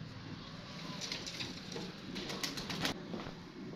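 Several fit domestic pigeons coo softly and steadily among a flock, with faint wing flutters and rustling against a constant low background hum.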